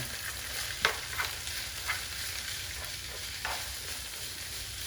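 Peppers and onions sizzle steadily in a pan, with a constant close frying hiss broken by a few soft stirring scrapes and taps.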